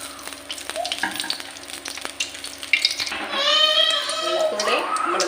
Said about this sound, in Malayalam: നമ്മൾ വേറൊരു ചീനച്ചട്ടിയിൽ നമ്മൾ വെളിച്ചെണ്ണ ഒഴിച്ചു കൊടുക്കുകയാണ്.